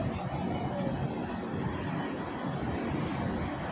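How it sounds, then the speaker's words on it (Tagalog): Helicopter overhead near the sea on a trip back toward Dipolog, heard as a steady, fairly loud broadband engine and rotor roar that holds continuously, with no talk. "Helicopter nga pala yun."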